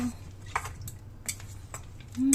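Chopsticks stir a pot of chicken feet soup with ripe papaya, peanuts and dates, giving a few light clicks and taps against the pot, with a brief tonal hum at the start and end.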